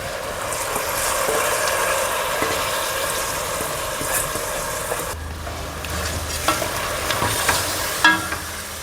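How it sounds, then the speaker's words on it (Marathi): Washed rice pours into a hot pan for Marathi masala rice with ivy gourd, giving a steady loud sizzle and stirring hiss that later thins, with a few scraping clinks of a spoon near the end. "आता त्यामध्ये मी धुवून ठेवलेले तांदूळ ते टाकत आहे"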